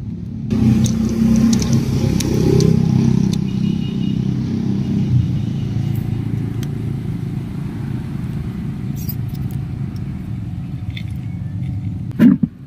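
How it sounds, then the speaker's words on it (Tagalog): A homemade air compressor without an air tank runs steadily as a loud, close motor rumble, with a short sharp burst near the end. "Testing natin mga boss ang ating dirt DIY compressor, air compressor."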